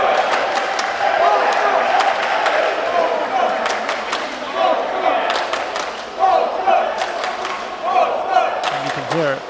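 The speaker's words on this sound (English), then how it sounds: "you can hear the Polish fans in the stands cheering for their team" Polish fans cheering and chanting in the stands at a volleyball match between Poland and Turkey, a loud, sustained crowd roar with rhythmic claps and sharp bangs, under a commentator's voice.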